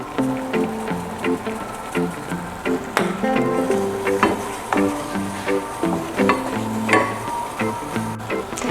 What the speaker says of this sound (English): browning the butter and a little bit of the flour too, without burning it